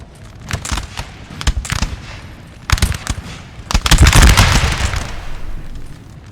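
Muskets fire in a Napoleon: Total War battle at Austerlitz. Scattered sharp cracks at different distances build into a heavy, rolling volley midway through, then thin out to sporadic shots.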